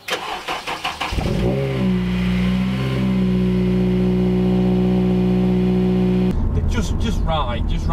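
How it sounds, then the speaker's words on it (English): A car with a resonated cat-back modified exhaust fires up from a cold start, settling into a loud, steady droning idle before blipping into a brief rev near the end. "It does still sound like a modified exhaust, but it's not horrific, especially on cold starts."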